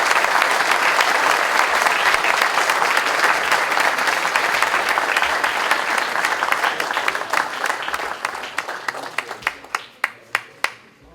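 Audience applause at a trophy presentation during an international dog show in Paris, a loud, sustained wash of clapping from a crowd that thins toward the end into a few scattered, distinct claps.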